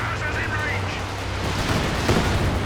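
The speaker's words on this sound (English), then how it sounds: "Big artillery." Artillery barrage in the strategy game Company of Heroes 2, rumbling low explosions and blasts rolling continuously under a commentator's voice, with a sharper impact near the end.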